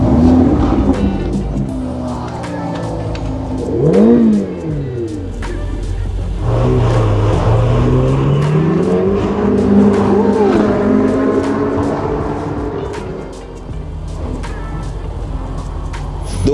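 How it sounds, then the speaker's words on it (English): A Ferrari in London, its engine revving and rising in pitch several times, heard close from inside the car as a steady loud drone with swelling accelerations. "I'm riding in a Ferrari today in London"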